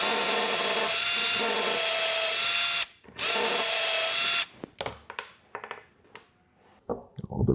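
A power drill whines loudly and steadily while drilling into a metal Subaru AVCS exhaust cam gear, stops briefly, resumes, then gives way to short bursts and scraping sounds.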